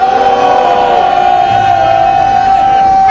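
Crowd applause at an outdoor candlelight rally in Suncheon, a steady sustained roar of clapping and cheering that fills the whole clip, loud and continuous with no break.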